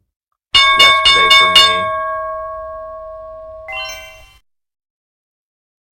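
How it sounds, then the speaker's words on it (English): A bell rings in a quick cluster of three bright, ringing strikes that decay slowly, followed by a softer single ring a couple of seconds later, close and loud against silence. "So there's the bell."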